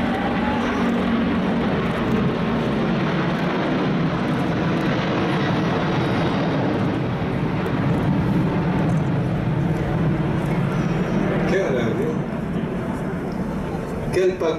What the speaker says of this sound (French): The A380 flown for you today by Mr. Christophe Caille, Mr. Michel Bonifay